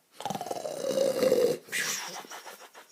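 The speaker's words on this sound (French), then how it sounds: "Baborco continue de ronfler épouvantablement" An ogre snores loudly in a storybook narration, a rough, rasping snore with a long rumbling inhale followed by snorting, breathy sounds that carry on to the end.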